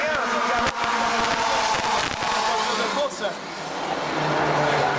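Race cars roar through a corner at Granby during a qualifying session, with engine whine and tire noise, while a commentator talks excitedly in French over the track sound.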